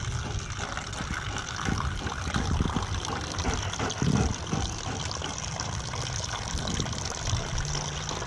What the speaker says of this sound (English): Bear, drink your water.